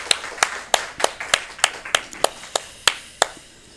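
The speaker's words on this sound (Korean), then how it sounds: "우리 살아계신 하나님께 영광의 박수 올려드립시다." Congregation clapping in unison during a Sunday morning church worship service, a steady run of about eleven sharp, evenly spaced claps with no talk over them.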